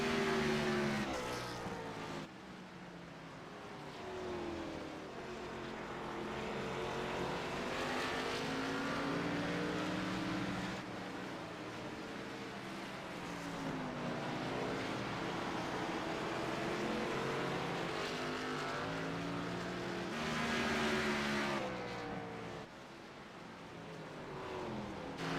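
Race cars in a Martinsville sim racing game roar continuously around the short track, engine pitch rising and falling through repeated acceleration and deceleration, loud and close throughout with no talk.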